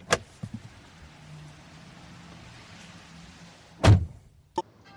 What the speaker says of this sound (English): it was time to get in my car and go home